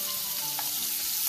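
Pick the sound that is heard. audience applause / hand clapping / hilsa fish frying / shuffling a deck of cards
hilsa fish frying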